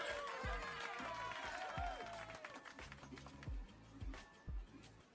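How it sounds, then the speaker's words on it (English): Applause sound effect played during a live futures day-trading stream, a short burst of clapping with crowd noise and rhythmic low thumps, moderately loud throughout. "Finished it off with an applause."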